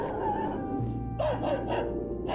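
Sled dogs bark in Nome, Alaska, in 1925: a short series of sharp barks and yips with a low hum underneath, moderately close.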